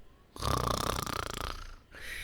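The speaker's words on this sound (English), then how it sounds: "You don't snore when you're in chloroform." A character in the Ace Attorney Investigations video game snores, one long, loud, rasping inhaled snore with a rattling buzz, followed by a softer breath.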